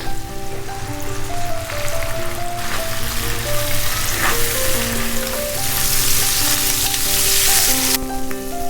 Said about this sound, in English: Mix them and fry well.